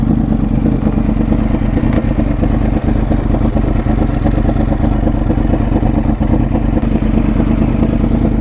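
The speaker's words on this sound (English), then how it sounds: "So before that, I will make you hear this exhaust." A Yamaha R1 cross-plane inline-four fitted with a Toce exhaust runs loud and close, giving a dense, uneven rumbling burble that holds steady throughout, with no talking.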